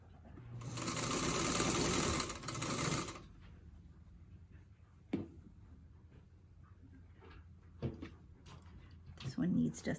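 A sewing machine stitching pieces of a quilt runs in a loud, fast burst for a couple of seconds, followed by quieter handling clicks and taps.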